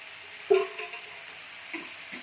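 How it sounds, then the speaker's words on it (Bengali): Spinach fries faintly in white oil, a soft, steady hiss with a scrape as it is stirred near the start and a couple of lighter stirs later. "একটু ভালোভাবে নাড়াচাড়া করে নিচ্ছি একটু লাল লাল করে শুকনো শুকনো করে শাকটাকে ফ্রাই করে নিতে হবে"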